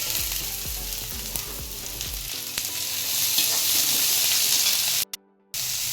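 Two medium finely chopped onions hit the hot pan for upma, giving a steady sizzle and frying hiss with scraping stirs near the start, then a brief cut near the end.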